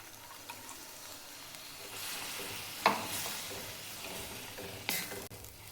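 Green chili with crushed peanut and added water simmers in a pan, giving a faint, steady bubbling sizzle broken by a few sharp stirring clinks.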